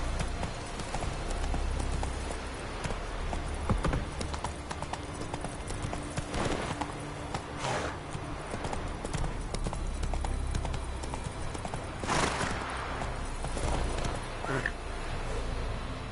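Roach, a horse in The Witcher 3, gallops with a steady, continuous clip-clop of hooves close by over a full game soundscape, with a voice heard at times.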